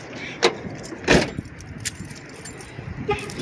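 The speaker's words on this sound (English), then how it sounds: "Let me at least lock the door." House keys jangle in a few short metallic bursts while a front door is locked outdoors, with faint road traffic in the background and brief quiet pauses between the jingles.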